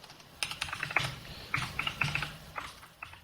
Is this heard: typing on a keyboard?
yes